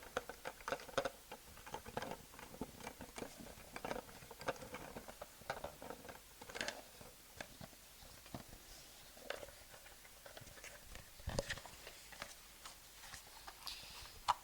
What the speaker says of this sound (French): Voici donc la vidéo sur ce petit clavier